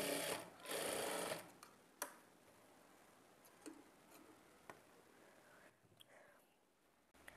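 A sewing machine stitches the side joint of a blouse: a close, steady mechanical whir runs for about a second, then drops to faint ticks and small clicks against a quiet background.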